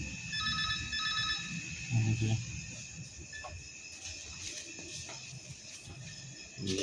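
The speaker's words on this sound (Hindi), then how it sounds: "रिंगिंग हो रही है और यहाँ पे कोई बंदा नहीं है" Telephone ringing unanswered in an empty electricity supply office at night, repeated electronic ring bursts at moderate distance with room noise and faint background murmur.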